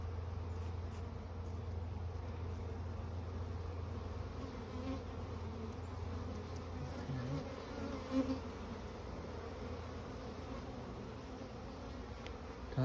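A dense, steady droning hum of many honey bees buzzing together inside a hive, continuous and close throughout.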